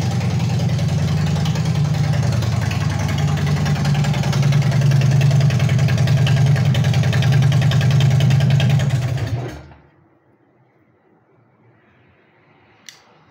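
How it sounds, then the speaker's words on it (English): A Harley-Davidson runs at idle through stock exhausts with the baffles removed, a loud, throbbing rumble close by that cuts off abruptly about two-thirds through, leaving near silence and one faint click. "that was the sound of stock exhausts without any baffles in it whatsoever"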